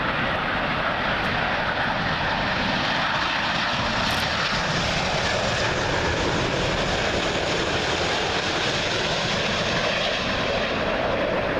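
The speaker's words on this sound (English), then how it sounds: "Arriving next, British Airways 777 in from Bengaluru" British Airways Boeing 777 arriving at Heathrow from Bengaluru on runway 27L, a loud, continuous close jet roar passing low overhead, dense and unbroken across the whole stretch with no talking.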